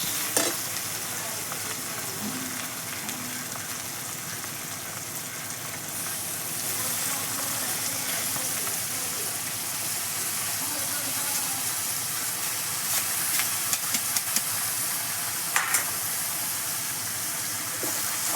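Cabbage frying in a pan with potatoes and ginger paste, no water added, a steady loud sizzle with occasional stirring scrapes and clicks throughout.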